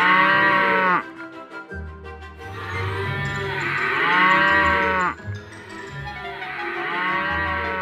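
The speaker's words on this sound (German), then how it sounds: "Oh nein, was machen denn die Kühe da?" Toy-film cattle moo loudly in long, drawn-out calls, several overlapping across the scene in a Playmobil cartoon, one lowing after another with barely a pause and no talk over them.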